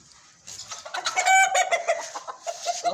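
A hen held in the hand and trying to escape clucks and squawks agitatedly up close, a rapid run of loud, uneven clucks with no talking.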